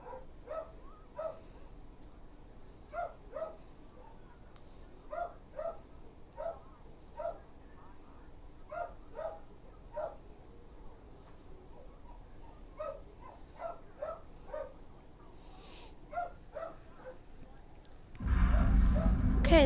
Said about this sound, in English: apologize for the dog barking